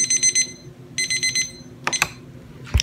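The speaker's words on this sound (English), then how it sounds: "my timer is going off" Kitchen timer for baking cookies going off: two bursts of rapid, high electronic beeping, then a few clattering knocks nearby. Moderately loud over a low background hum, with no talk.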